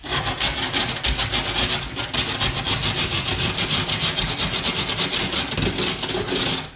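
A rasp drags steadily across the textured foam surface of a handmade rock face wall, giving a loud, continuous scraping with quick rhythmic strokes and no voices.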